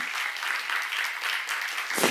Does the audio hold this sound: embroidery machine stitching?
no